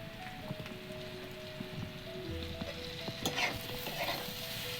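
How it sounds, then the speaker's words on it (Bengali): Cauliflower pieces drop into a hot wok of potatoes for vegetable chow mein, with a steady frying sizzle, a few clattering stirs and a brief scraping swell partway through. "এর মধ্যে এবার কপিগুলো দিয়ে দেবো।"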